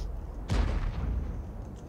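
A single heavy tank cannon shot in a video game, a loud booming blast with a rolling decay over background noise.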